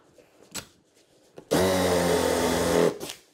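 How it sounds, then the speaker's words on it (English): A drill turns a 3/4 inch Forstner bit into a wooden board for a crate, making a loud, close grinding whir for about a second and a half, with a few light taps and knocks just before and after. "I'll use a 3/4 inch Forstner bit to drill a hole right on the middle of that line"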